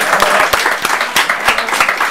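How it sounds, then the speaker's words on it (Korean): Applause from a group, dense clapping with irregular louder claps standing out, steady and fairly close for about two seconds. "아 박수"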